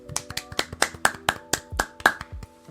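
Sharp, irregular claps or snaps, about a dozen quick close hits over a low sustained musical tone, with no talking.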